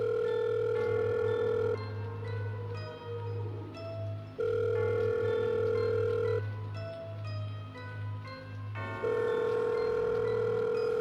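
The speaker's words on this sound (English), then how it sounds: "The phone rang several times." A phone rings several times, each long electronic ring separated by a pause, fairly clear with faint background noise and no voices.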